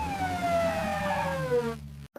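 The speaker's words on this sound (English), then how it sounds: "A is for ambulance." An ambulance siren wails loudly and steadily with a falling, Doppler-like pitch, as if passing close by, then cuts off abruptly into near silence before a brief faint click.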